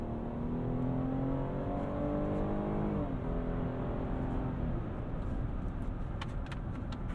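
A 2021 GMC Acadia AT4, a 4,300-pound SUV with a 9-speed transmission, accelerates hard from inside the cabin, its engine droning up in pitch, dropping at quick gear shifts and climbing again.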